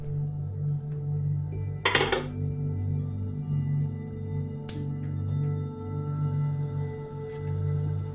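Utensil scraping and clinking against a large pot of about five litres of Indian chicken and vegetable soup on a gas flame, with a sharp clatter near the start and another mid-way over a steady low burner hum.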